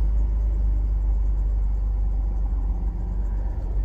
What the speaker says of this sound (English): Sounds like we might have a exhaust leak.